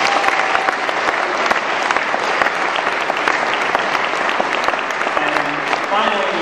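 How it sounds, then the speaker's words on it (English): An audience applauds at a classical music celebration. The clapping is dense and sustained at an even, loud level for the whole stretch, with a few voices mixed in. "Please give them a round of applause"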